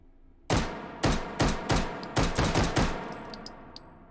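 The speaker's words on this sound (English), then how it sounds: "And we are ready to shoot." Pistol shots in the VR shooting game Hot Dogs, Horseshoes & Hand Grenades: about eight sharp, loud, close reports that come faster toward the end, each followed by a short ringing tail, with faint mechanical clicks afterward.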